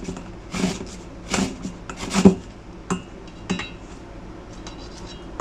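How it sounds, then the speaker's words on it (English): Carrot grated by hand on a grater for a cabbage salad: a run of rough rasping strokes, each a short scrape, repeating unevenly and fairly close with no talking over it. "of all the things to grate up, carrot probably is your hardest."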